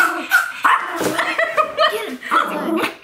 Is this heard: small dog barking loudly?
yes